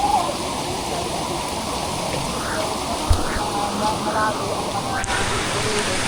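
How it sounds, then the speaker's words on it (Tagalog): Steady, loud rain pours down continuously, a dense hiss with a few faint sounds from somewhere nearby. "Yan na yung ulan."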